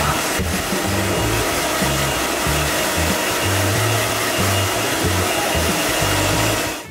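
A hair dryer blows loudly and steadily at close range, its airflow shifting slightly in pitch as it moves, then cutting off at the end.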